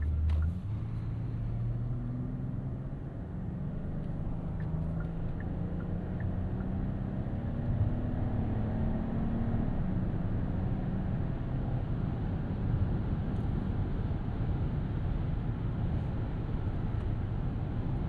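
A smooth, low V6 engine hum drones steadily while driving a 2026 Hyundai Palisade SUV, with a subdued rumble and slowly shifting tone, no one speaking.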